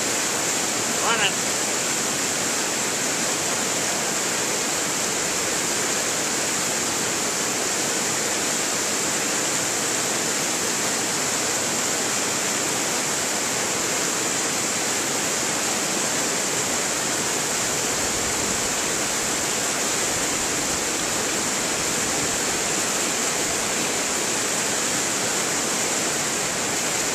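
Steady, loud rush of water pouring through a micro-hydro turbine feed line during spring runoff, a continuous broadband roar holding evenly throughout with no pauses.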